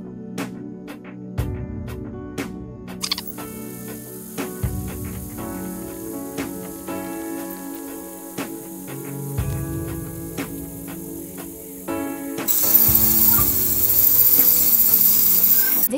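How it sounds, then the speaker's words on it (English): A DYM golden diamond burr grinds a steel plate in a steady whining buzz with repeated rhythmic bursts and rattling, close and loud, growing harsher and brighter toward the end. "now use our DYM diamond burr to grind the steel plate."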